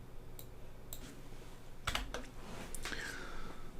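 A computer keyboard and mouse on a desk, with a few sharp, separate clicks and key taps spread over a few seconds, fairly quiet against a low background hum.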